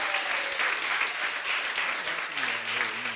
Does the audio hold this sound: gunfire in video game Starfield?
no